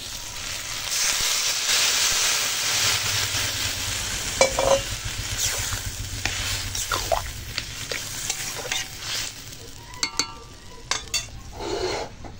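Spiced vegetables sizzling steadily in a pan, with a constant frying hiss, intermittent spoon clinks and scrapes against the pot, and occasional louder clanks near the end.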